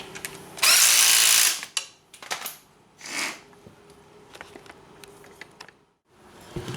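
A power drill tightens the wheel bolts on a Banshee axle, one loud close whir of about a second followed by lighter clicks and metallic taps.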